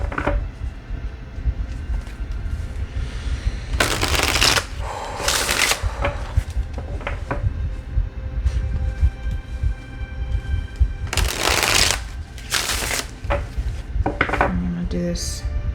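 A tarot deck is shuffled in a few quick, crisp riffling bursts spread across a quiet room with a low background hum.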